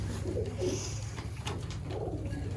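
Soft, rolling coos from Sialkoti pigeons on a rooftop, a few close murmuring calls over a faint steady background with no talking.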